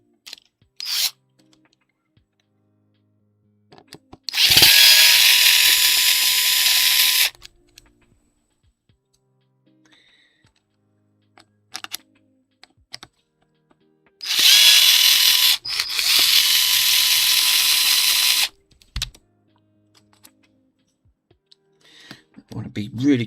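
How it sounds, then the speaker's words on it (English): Power drill or electric screwdriver undoing screws on a record player, two separate bursts of about three seconds each, close and loud, with quiet handling clicks between them. "So I've got to undo these screws."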